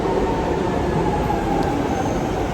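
London Underground tube train arriving at the platform, a steady loud rumble of wheels on rails with a faint high whine above it and no talking.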